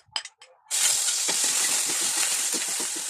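Garlic hitting hot oil in a pan for chicken adobo bursts into a loud, steady sizzle after a few brief clinks, the hiss continuing with light stirring scrapes.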